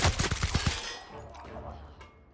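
Rapid gunfire and bursting head explosions from the sci-fi shooter The Outer Worlds crackle loudly in a quick volley at the start, then fade into a quieter rumble.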